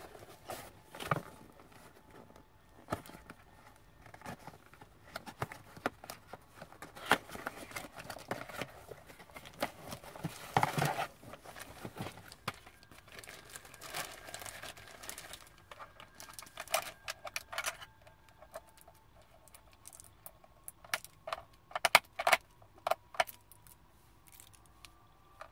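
Fingers tap on a wireless computer keyboard during a game, giving irregular bursts of sharp, close key clicks with brief pauses between flurries.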